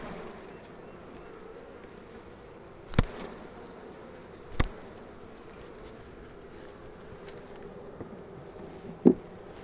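Honey bees hum in a soft, continuous buzz around a hive being split, with a few sharp raps or knocks cutting through at intervals; no one speaks.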